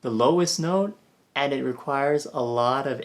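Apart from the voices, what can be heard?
No everyday noise stands out behind the speech.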